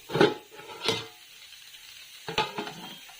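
Chopped potatoes get stirred in a pan with a few scraping, clattering strokes of a spoon, separated by short pauses, against a faint sizzle.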